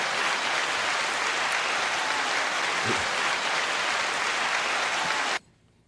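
Studio audience applause on a talk show, a dense steady wash of clapping that holds for several seconds and then stops abruptly.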